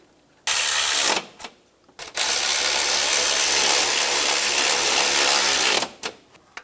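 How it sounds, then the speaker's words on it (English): A ratchet tightening a stud and bolt on the oil pressure sensor of a 2005-2007 Ford Five Hundred, two bursts of rapid close clicking, a short one then a long steady run, with pauses between. "And then the bolt, and we'll tighten those down."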